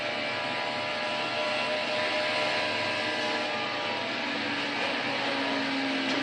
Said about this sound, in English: And Kens is going out on track right now.